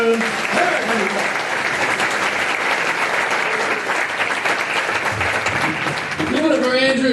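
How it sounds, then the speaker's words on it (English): Audience applause for a comedy science show host, loud sustained clapping from a crowd with a few voices and cheers mixed in toward the end. "Round of applause for the mad scientist and yourselves."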